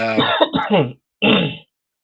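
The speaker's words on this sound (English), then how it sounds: "No, I just coughed" A pair of rough, throaty coughs, close and loud, the first longer and broken, the second a single short burst, then silence.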